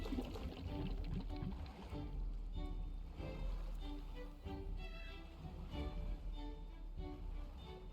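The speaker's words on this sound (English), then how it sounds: "this should be chucking the bad water in here somewhere" Bad water pouring out in the Timberborn video game, a continuous splashing pour with a gurgling trickle, moderately faint under game background music, with no talking.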